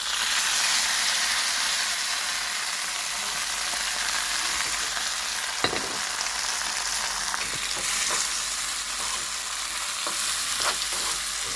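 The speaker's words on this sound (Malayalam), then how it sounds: "ഇനി ഇതിലേക്ക് ഈ ചെമ്മീൻ ചേർത്ത് കൊടുക്കലാ ഈ കടുക് വറുത്തതിലേക്ക് തന്നെ" Prawns sizzle and fry in oil with tempered mustard seeds, dried red chillies and curry leaves, a steady close hiss with occasional stirring clicks, no voices.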